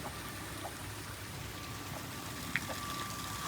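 Heavy rain falling in a dense, continuous hiss of drops on surfaces, steady and enveloping with a faint tonal hum underneath and an occasional sharper drip.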